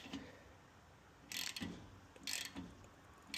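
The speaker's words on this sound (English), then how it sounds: "I'm going to thread it in here, make sure there's no oil leaks at the top of the turbo." An oil line fitting wrapped in Teflon tape being threaded and tightened into the turbo oil feed on a 1,000+ hp turbo LSX 427 Chevelle build, heard as two short ratcheting bursts of clicks from close by, separated by quiet.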